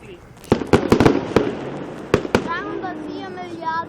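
Fireworks at the Heidenheim folk festival (Volksfest): a rapid run of loud, sharp bangs and cracks close by, followed by whistling, fizzing trails as the bursts fade, with crowd noise and voices underneath.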